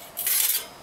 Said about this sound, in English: the stove just opens up and the floor